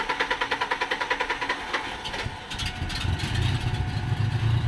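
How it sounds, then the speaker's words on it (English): A modern manual-transmission car engine cranks with a rapid, regular starter whir, then catches and settles into a rough, uneven idle with a loping low rumble, close and fairly loud. "It's going to start an idle rough to start with, but then it should be just fine."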